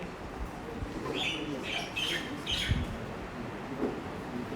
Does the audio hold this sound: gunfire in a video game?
no